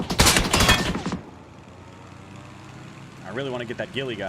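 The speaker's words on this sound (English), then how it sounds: "Stop shooting at my glider." Rapid automatic gunfire crackles loudly in a fast burst in the battle royale game PUBG, then drops to a quiet lull before a voice talks over faint background game noise.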